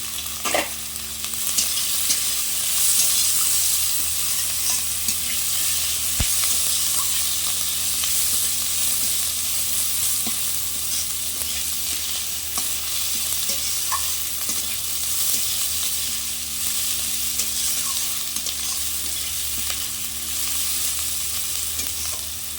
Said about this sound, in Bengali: পেঁয়াজ রসুন কাঁচা লঙ্কা একটু ভালো করে ভেজে নেব